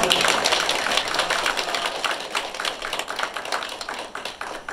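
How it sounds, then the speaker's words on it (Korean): Steady, dense audience applause at a 5.18 Democratic Uprising 44th anniversary commemoration ceremony in LA, following a plaque presentation, with many hands clapping continuously at an even, fairly loud level throughout. "박수 한번 하시죠."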